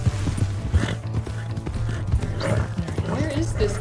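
A horse gallops in the video game Red Dead Redemption II, its hooves drumming in a quick, steady rhythm with occasional snorts, while a person talks over it.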